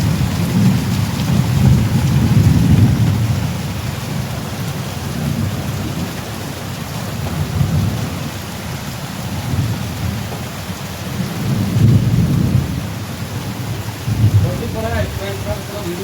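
Heavy rain pours steadily during a thunderstorm, with repeated low rolling rumbles of thunder swelling and fading over the downpour, loud and enveloping outdoors.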